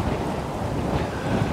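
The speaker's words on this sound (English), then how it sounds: "It's blown an absolute hoolie out here. Torrential rain." Torrential rain driven by strong gale-force wind on Lundy Island, a dense, steady roar of downpour and gusts with no let-up, loud and close throughout.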